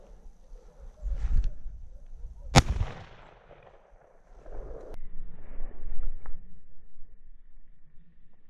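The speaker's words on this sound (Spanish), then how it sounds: "estoy oyendo los tiros desde allí" Over-and-under shotgun shots during an outdoor thrush hunt: one sharp, close report stands out among a few dull, distant booms, with quiet open-air background between them.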